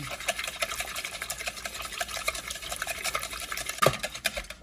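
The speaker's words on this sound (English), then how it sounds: "I'm gonna use the Tupperware whisk, so let's get these all beat up here" Eggs beaten with a Tupperware whisk for German pancakes, giving fast, steady scraping and clicking strokes that run continuously at close range with no voices.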